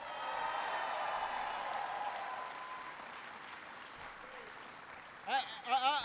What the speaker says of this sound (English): Everybody give Jordan a big round of applause.